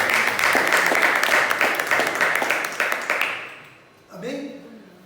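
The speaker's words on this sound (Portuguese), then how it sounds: "Um aplauso ao Senhor Jesus." A church congregation applauds in a dense burst of clapping for about three and a half seconds, fading out, then a voice begins speaking.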